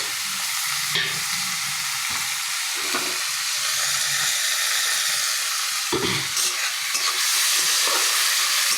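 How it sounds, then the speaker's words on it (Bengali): Prawns, mutton mince and chopped green chillies fry in a pan with a steady, close sizzle, broken by a few stirring scrapes and sharper bursts around the middle and near the end; no voices. "দিয়ে দিলাম কিমাগুলো, কাঁচা লঙ্কা কুচি, মাটন কিমা, চিংড়ি মাছ সব দিয়ে দিলাম।"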